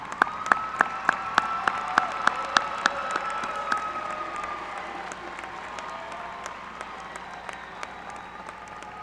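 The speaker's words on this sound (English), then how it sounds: "Graduates, if you would you give a round of applause for them?" Graduates at a university commencement applaud their families and friends in a large hall, starting with a few loud, distinct claps up front and then settling into a broad, thinning patter of many hands.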